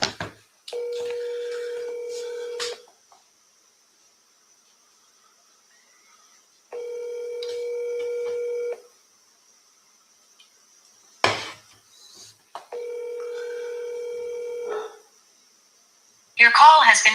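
Telephone call sounds: repeated ringback tones in three long, evenly spaced bursts, clean and steady, with brief clicks and handling noise between them and a short burst of other sound at the end.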